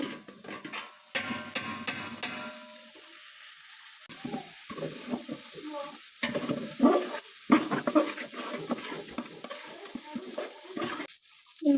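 Washed kalijira rice tipped into a pot and stirred while making biryani, a soft sizzle followed by scraping and grainy rustling strokes against the pot, irregular and close, with no talking.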